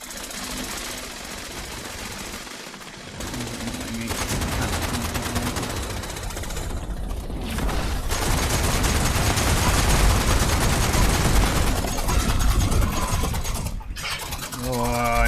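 Weapon fire in the video game Fallout 76: loud, dense, rapid automatic bursts that run almost continuously, with a brief lull near the start and a short break close to the end.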